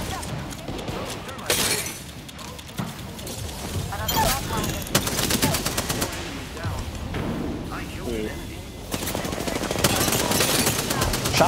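Gunfire in the battle royale game Apex Legends crackles in dense, rapid bursts throughout, loud and close, with shattering impacts, while players talk excitedly over it.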